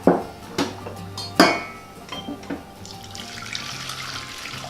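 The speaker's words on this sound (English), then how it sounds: "we're gonna pour the tea back into the pot" Chai tea pours back into a pot with liquid splashing and trickling, broken up by a few sharp clinks of pot and utensils near the start, then a steady gentle flow.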